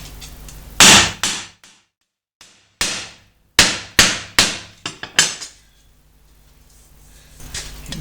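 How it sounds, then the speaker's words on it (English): A hammer's ball end strikes sheet steel of a motorcycle bobber fender, putting in dimples in sharp, loud, ringing blows, about eight in an uneven rhythm with short pauses between them. "you've taken the ball end of the hammer, you put a dimple in it like that"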